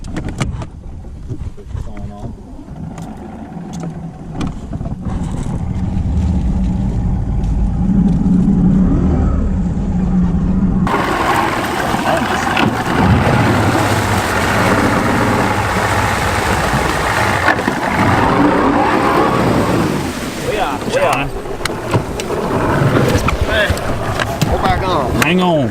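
Boat engine cranked up while stuck on a log ahead of a lightning storm, starting quietly then surging to a loud, steady roar partway through, with people talking over it.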